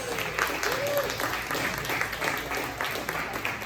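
Audience applause for a comedian at a comedy show, dense clapping and cheering filling the room steadily throughout with a voice speaking over it.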